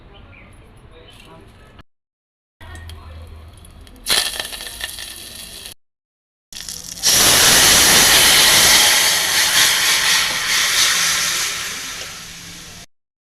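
Tempering with asafoetida hits hot oil for bottle gourd pulusu, bursting into a loud, close sizzling hiss after a few quieter clatters and short silences, then fading slightly.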